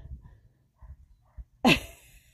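A dog gives one sharp, close bark near the end, after a stretch of quiet, low background rumbles outdoors in a garden.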